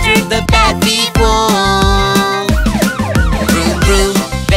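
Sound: cartoon police car siren

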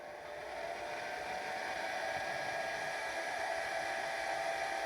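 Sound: hair dryer running

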